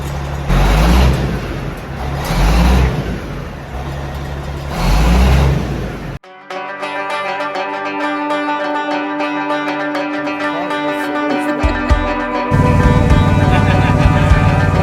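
A John Deere 420 garden tractor engine runs loud and close, first with a pulsing rumble, then after an abrupt cut with a steadier droning hum that builds toward the end.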